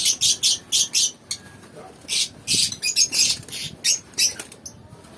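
Pet lovebirds in a cage give loud, sharp bursts of squawks and chirps in quick clusters, close by, with short quiet gaps between.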